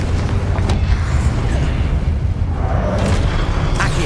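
A Confringo blasting spell explodes in Hogwarts Legacy, giving a loud, dense, continuous low rumble that fills the whole stretch without clear breaks.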